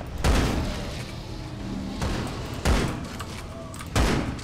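Heavy, booming gunshots in Primal Carnage: Extinction, four separate blasts spaced a second or so apart, each with a short rumbling tail over a low background hum.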